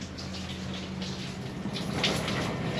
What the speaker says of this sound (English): We can take as long a shower as we want right now and leave here full of water.